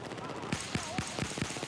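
Suppressed MK11 rifle shots in Battlefield 4, about five quick muffled thumps fired in a steady rhythm amid game background noise.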